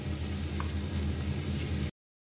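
Onion with bay leaf and ginger sautéing in hot butter in a pot for tomato soup, a steady, close, even sizzle that stops abruptly before the end.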